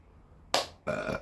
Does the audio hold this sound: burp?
yes